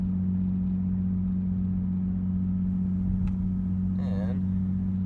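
A Nissan 350Z with a rear-mount turbo cruises steadily in gear, its engine a constant low droning hum throughout, with a brief higher-pitched sound rising near the end.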